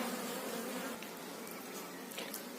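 Honeybees hum in a dense, steady buzz inside an open hive as its frames are checked, the swarm close and continuous, with a faint clack near the end.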